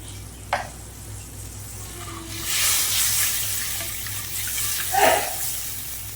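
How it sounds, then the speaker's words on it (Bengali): Fish curry gravy with poppy seed and mustard bubbles in a pan, a soft continuous simmering hiss with a few swells and a brief clink, heard close with no one talking. "দেখুন ঝোলটা আমার ফুটে উঠেছে।"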